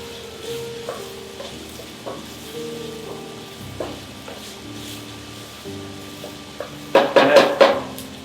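Onions stirred in a pan, with scraping and clinking of a utensil against cookware at a steady, moderate level, then a brief burst of sharper sizzling near the end.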